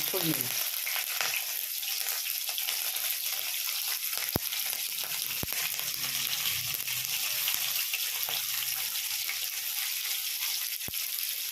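Whole spices tempering in hot oil for masala Maggi noodles, a steady close sizzle and crackle lasting throughout with a few sharp pops and occasional stirring scrapes.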